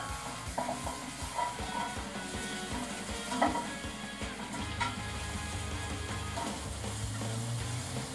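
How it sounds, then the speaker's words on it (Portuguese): Steady sizzling of bacon frying in a pan, with faint clinks of a utensil and a low hum underneath; no voices. "Aí você vai fritando o bacon até ficar douradinho."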